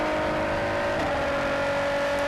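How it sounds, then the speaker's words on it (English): Race car at Le Mans under throttle with traction control working, engine note steady and loud with a strong sustained tone rising through the gears, heard from inside the car. "Get on the throttle early, get the TC working, and it's up through the gears again."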